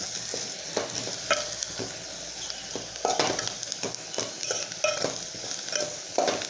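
A spiced soybean mixture is stirred in a frying pan, with a steady sizzle under repeated scraping strokes of a spoon against the metal, close and fairly loud.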